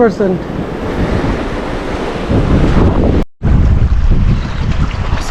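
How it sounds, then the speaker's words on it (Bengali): Strong cold wind blows across the sea on the Oman coast during a fishing trip, roaring loudly against the microphone over crashing surf, with a brief dropout midway and a faint voice at the start. "বাতাস অনেক আজকে"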